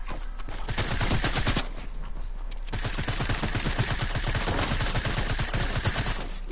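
Rapid automatic gunfire in a solo battle royale video game, a dense stream of regular shots running almost without a break, with a brief lull in the middle before the burst resumes loud and close.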